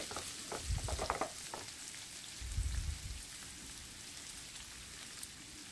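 Onions frying in hot mustard oil in a pan over a medium flame, with garlic and ginger added for a spiced paneer curry. A soft, steady sizzle with a few louder bursts of stirring, faint and close.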